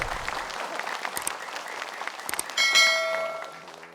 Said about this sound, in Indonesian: tepuk tangan ibu-ibu boleh